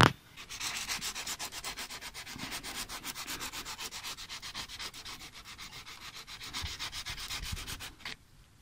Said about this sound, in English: Now I'm just cleaning up inside to make sure there's no rust or debris that's going to stop the bushing from going in smoothly.